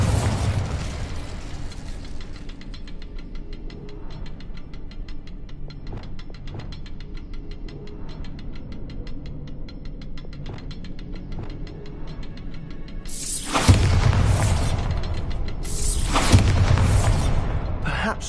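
Bombarda spell blasts from Hogwarts Legacy, a game, with a thick burst of explosive noise near the end after a long stretch of quieter magical rumble and clatter.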